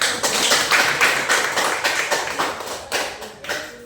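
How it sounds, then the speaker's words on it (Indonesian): A classroom group claps their hands together in a dense, steady burst of applause, loud and close, with no talking over it. "Ya, kita tepuk tangan"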